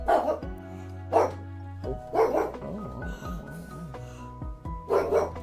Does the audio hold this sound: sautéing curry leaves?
no